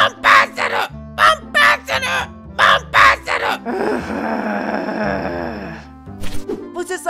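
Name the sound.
bird calling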